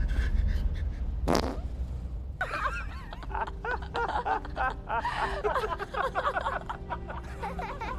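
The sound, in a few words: fart by a film character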